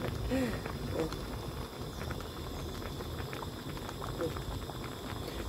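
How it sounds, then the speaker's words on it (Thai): Sweet corn, still in its husks, boiling in a pot of lightly salted water, giving a steady, fairly quiet bubbling and burbling that runs throughout with no talk over it. "มาดูการต้มเพื่อความเพลิดเพลินนะคะ"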